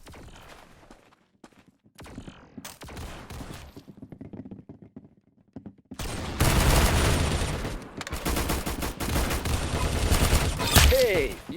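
Gunfire in a video game, first sparse scattered shots and quieter stretches, then loud, dense bursts of rapid fire that continue to the end, with some speech mixed in.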